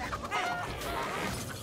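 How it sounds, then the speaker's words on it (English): A video game chicken clucking in short, bright squawks, close and moderately loud, over a busy background of game sounds with no clear speech. "That chicken's gonna get the New Kid!"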